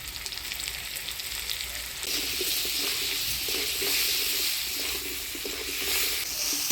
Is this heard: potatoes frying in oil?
yes